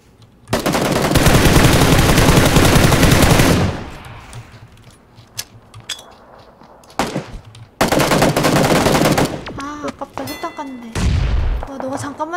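Loud bursts of automatic gunfire from a shooting video game, two long volleys separated by quieter stretches of game noise and scattered shots, with brief voices near the end.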